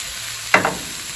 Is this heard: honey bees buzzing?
no